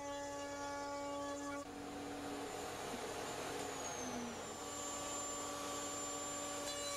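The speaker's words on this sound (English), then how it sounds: "I do this on the router table, which leaves a nice clean result and a nice clean bottom" A router table cuts a 1/4 inch groove in the parts of a continuous-grain mitered wooden box, a loud steady motor whine with a high tonal hum and broadband cutting noise that shifts partway through, running throughout with no talk.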